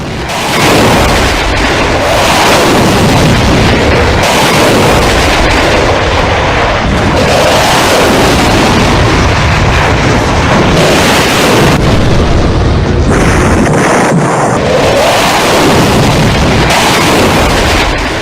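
Missile strikes from a Rafale jet explode in a long, dense barrage of booms and rumbling blasts, loud and continuous with overlapping detonations and no voices.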